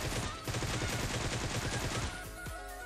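Rapid automatic gunfire in PUBG Mobile on a desert map, a loud close burst of shots rattling for about two seconds before it cuts off, followed by a single fainter shot.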